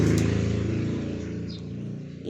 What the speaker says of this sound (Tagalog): Ingay ng sasakyan